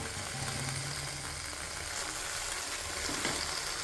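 Vallarai keerai (brahmi) leaves sauté quietly in a pan, giving a soft, continuous hiss of frying with no voices over it.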